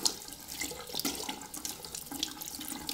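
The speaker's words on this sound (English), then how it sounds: "Let's flush the parts with water." Tap water flushing over dusty computer parts during cleaning, a continuous splashing stream from a faucet with uneven spatter as the water hits the hardware.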